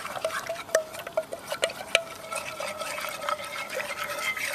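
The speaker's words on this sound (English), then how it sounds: "A little stick to mix it up." A small stick stirs a hide glue and cold water mixture in a pot, giving light repeated clicks and knocks against the pot with soft liquid sloshing, close and fairly quiet.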